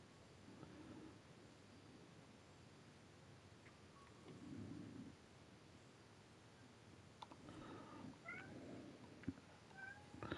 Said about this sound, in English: my cat likes to meow a lot